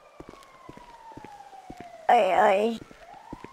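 A siren in the GTA 5 video game, taken to be an ambulance, blares loudly for under a second over a faint falling wail, with a man's brief exclamations and game noise around it.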